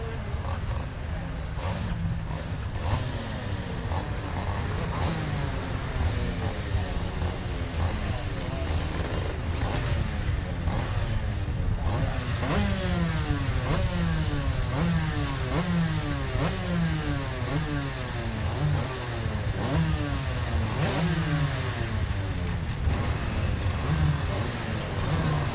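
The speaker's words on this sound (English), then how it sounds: "These karts do have a standing start," Racing karts at a Forest Edge Kart Club round revving hard together at a standing start, a dense, sustained buzz of many small engines with rapid rising and falling pitch sweeps, loud and continuous throughout.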